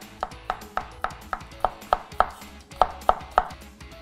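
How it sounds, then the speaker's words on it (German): A knife slices boiled potatoes on a cutting board, about a dozen crisp, evenly spaced strikes in a quick, regular rhythm. "Scheiben schneiden."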